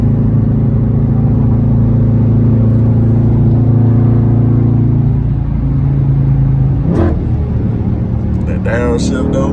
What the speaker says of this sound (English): That downshift though.